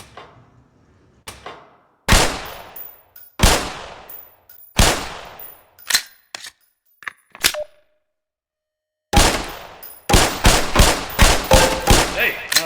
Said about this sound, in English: Hold your weapon in a 2-handed grip, both thumbs forward, feet shoulder width apart. Put 7 rounds in the center ring of each target.